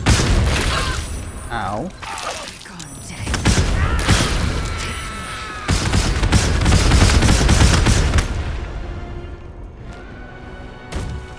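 Explosions and bursts of combat noise in the video game Baldur's Gate 3, with heavy booms and crackling blasts rolling in repeated waves as a person talks and exclaims briefly over the action.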